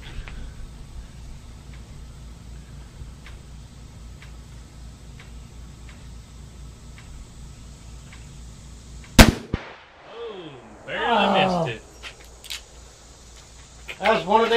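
A .44 Magnum revolver is fired one-handed at a shooting range: one sharp, very loud report cracks out after a long stretch of quiet background with faint ticking, and people talk and react right after it.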